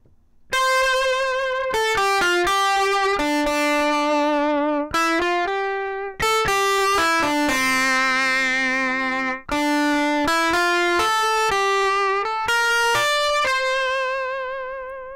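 Electric guitar distorted with the SoundToys Decapitator plug-in playing a melodic line of sustained notes, bright and buzzy with rich harmonics, loud and alone with no talking.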